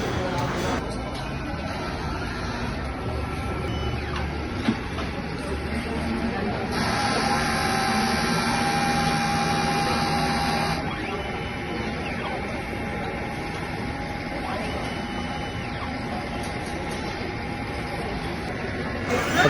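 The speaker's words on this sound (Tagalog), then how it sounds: "Clean head naman po natin." A DTF printer running a print head cleaning cycle gives a steady mechanical whir and hum with a brief higher-pitched pump or motor phase in the middle, while a person speaks over it nearby.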